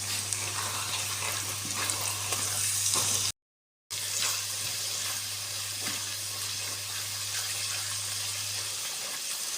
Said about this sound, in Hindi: इस तरह हिलाती रहें ताकि इसमें कोई गुठली वगैरह ना बने